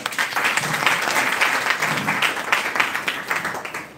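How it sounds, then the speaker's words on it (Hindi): Audience applause at a business speech event in Ara, a steady wash of clapping from a crowd lasting the whole stretch, dense and sustained with slight swells, no talk over it. "जोरदार ताली चाहूंगा"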